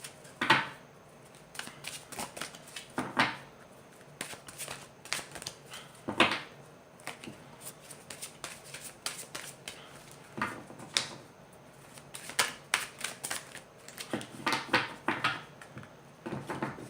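Tarot or oracle cards are shuffled by hand in a quiet room, giving repeated soft riffling and slapping bursts at irregular intervals, with brief pauses between shuffles and no talking.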